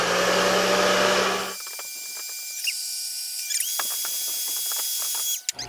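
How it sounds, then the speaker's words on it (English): A Dyson Supersonic hair dryer starts with a strong broadband whoosh, then drops to its low setting, a softer, steady hum with faint clicks and rustles over it. "So let's see what low does."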